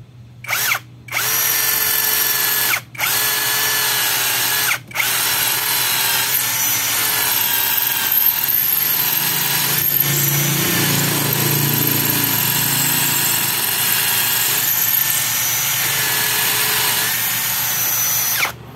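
A Tanzu 13mm cordless drill bores into solid stone with a loud, steady high whine that runs almost continuously, broken by a few brief pauses early on, with a rougher grinding stretch midway.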